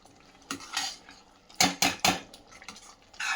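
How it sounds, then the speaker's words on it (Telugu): Tomato chutney being stirred in a metal pan on the stove, with a utensil scraping and clinking against the pan in several distinct bursts separated by quiet gaps. "దీన్ని పొయ్యిని సిమ్ నుంచి మీడియంలో పెట్టుకొని కలిపేసి ఈ పచ్చడిని కాసేపు మగ్గనివ్వాలండి"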